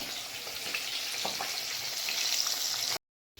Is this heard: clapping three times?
no